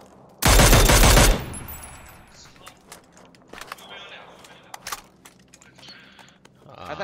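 A loud burst of automatic gunfire in a first-person PUBG match, lasting about a second, followed by scattered fainter shots, clicks and footsteps. Players talk over the action.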